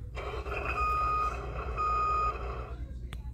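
A Fisher-Price Little People toy truck sounds its reversing alert, a bright electronic tone repeating for about two and a half seconds, close and clear, then falling quiet.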